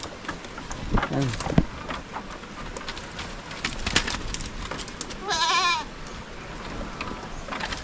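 Goats bleat in a farmyard, a couple of short wavering calls against a noisy background, with faint talk nearby.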